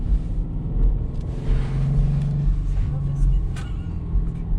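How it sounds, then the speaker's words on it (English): A manual stick-shift car pulls away as the clutch is released, its engine a low steady rumble from inside the cabin while people talk over it. "let the clutch out slow and hit the gas"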